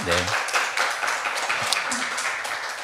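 Steady applause from a church congregation fills the room, with a voice speaking briefly at the start.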